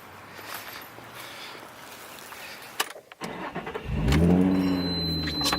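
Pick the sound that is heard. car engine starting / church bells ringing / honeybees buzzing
car engine starting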